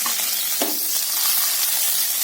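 Curry leaves hitting hot oil with mustard seeds and shallots for mutton kuzhambu, giving a loud, steady hissing sizzle with one sharp spatula knock near the start.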